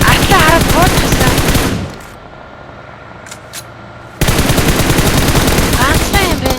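Loud, close machine gun fire in a video game, dense rapid bursts that fill the first seconds, break off into a quieter lull with a couple of faint blips, then resume just as intensely.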